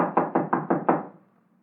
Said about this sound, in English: let's try knocking